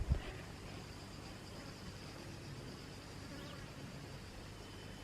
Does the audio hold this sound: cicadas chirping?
yes